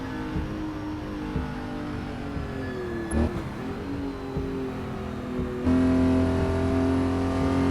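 A 1960s Porsche race car engine at Spa in a racing game, droning steadily then dipping and revving up again with a strong harmonic whine, close and loud with no talk.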